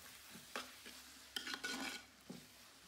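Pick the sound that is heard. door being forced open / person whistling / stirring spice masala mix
stirring spice masala mix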